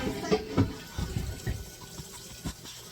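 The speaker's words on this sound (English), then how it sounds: "we're going to fill up with hot water" Hot water runs from a tap into a pot while homemade laundry soap is being made, a steady splashing fill with a few sharper knocks and sloshes throughout, close and moderately loud.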